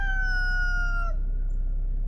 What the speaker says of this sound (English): He's an Americana, maybe an Americana cross, but pretty rooster.